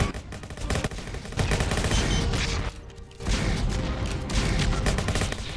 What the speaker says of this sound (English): I fire rockets over there.